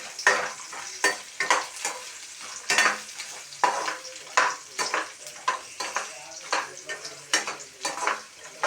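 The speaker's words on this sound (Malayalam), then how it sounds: "നന്നായിട്ട് വഴറ്റാം." Coconut pieces and soya chunks sizzle and fry in a pan while a spoon stirs them in quick, repeated scrapes, close up and continuous, with no talking.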